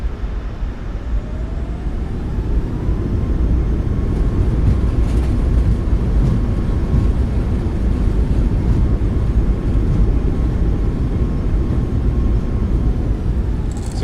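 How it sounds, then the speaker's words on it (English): Boeing 737 MAX 8 landing rollout in a flight simulator game with thrust reversers deployed, heard as a steady, loud low roar and rumble with a faint rising tone as the jet decelerates on the runway. "Nose down gently. Reversers are out. Decelerating."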